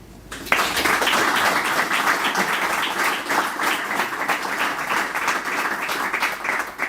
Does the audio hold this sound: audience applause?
yes